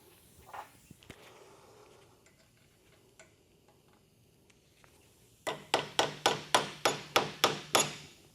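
Light hammer taps on a brass drift, driving a pin into a second-generation Camaro door hinge: about ten evenly spaced metallic clicks, close and crisp, after a few quieter scattered knocks.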